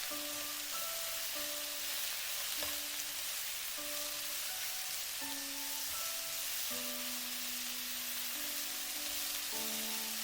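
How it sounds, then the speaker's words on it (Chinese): Minced meat stir-fried in a wok with green and red peppers and long beans, giving a steady, loud sizzle with no pauses, while faint melodic tones run underneath. "翻炒几下后，青红椒进来，长豆也跟着进来，然后继续翻炒。"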